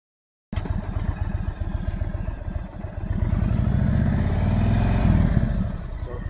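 A motorcycle engine idling close by with a rough, rapid chug, then revving slightly and holding a higher, louder note as the clutch is eased into the friction zone before settling back.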